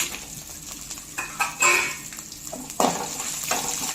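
Chillies and spices sizzle in hot oil in a home kitchen pan, a soft continuous crackle with louder bursts of spitting and stirring scrapes, close and fairly quiet, no talking.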